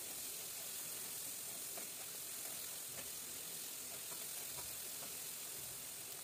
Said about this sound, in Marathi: फुल गॅसवरतीच कांदा आपल्याला मऊसूत होईपर्यंत, गुलाबी रंगापर्यंत परतवून घ्यायचा आहे।